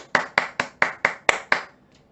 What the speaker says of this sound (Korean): 우리 모두가 박수를 보내야 한다고 생각합니다